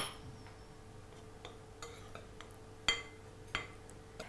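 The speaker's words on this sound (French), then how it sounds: "On va bien mélanger tout ça." Flour, sweetener and cinnamon for a crumble are stirred together in a bowl, making soft scrapes and a few sharp clinks of a utensil against the bowl, fairly quiet and irregular.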